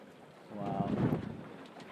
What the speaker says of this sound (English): You got full breeze, full noise here.